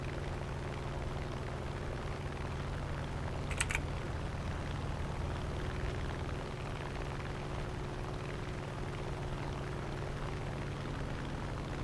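Aircraft engines drone steadily from planes aloft over a video game tank battle, a constant low hum with a brief faint click near the start and no talk.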